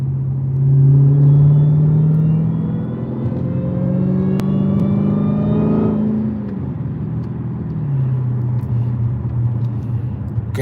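Dodge Challenger SRT Hellcat engine heard from inside while driving, a loud deep drone with rising whine as it accelerates, then easing back to a steady low rumble; no talk over it.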